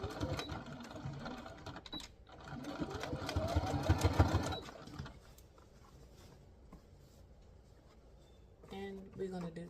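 A sewing machine stitches vintage sheet fabric in a busy, steady run of needle chatter, loudest for a few seconds before easing into quieter room sound, with a person speaking nearby.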